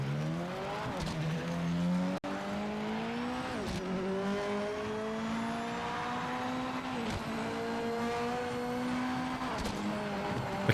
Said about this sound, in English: The car sounds are incredible.